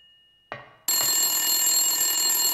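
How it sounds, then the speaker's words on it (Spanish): A telephone rings in the Silent Hill video game, starting after a single sharp click and then sustaining a loud, bright, continuous electronic bell tone that fills the rest of the moment without speech. "El teléfono para ese carpintero."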